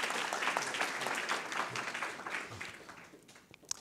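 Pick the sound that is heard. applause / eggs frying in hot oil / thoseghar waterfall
applause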